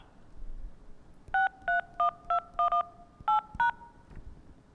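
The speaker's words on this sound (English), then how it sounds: "Please enter your cell phone number on the keypad and then press pound." Telephone keypad tones beep as a phone number is entered on an automated phone line: about nine short, clean DTMF beeps in an uneven typing rhythm over a quiet background.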